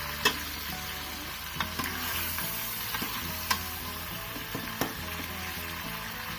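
Ginger garlic paste and tomatoes frying in a pot for Pakistani biryani, a steady close sizzle with occasional sharp clicks and stirring scrapes, no voices.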